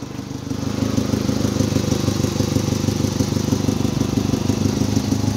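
A 1994 Ford Ranger XLT pickup's 2.3-liter four-cylinder engine idles steadily with a low, even rumble and slight rhythmic chug, close and continuous throughout.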